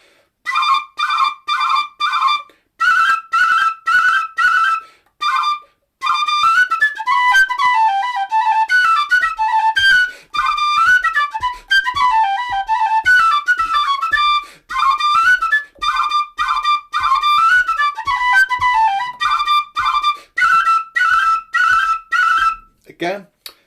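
A Weston whistle with a breathy, responsive tone plays a lively melody of quick bright notes and short phrases, separated by brief pauses, close and clear and alone.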